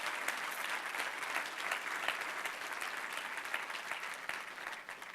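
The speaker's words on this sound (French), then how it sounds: "Des gens qui applaudissent d'une manière nerveuse." Applause from a church congregation comes through faint and distant, a thin, continuous patter of many hands that keeps an even level throughout.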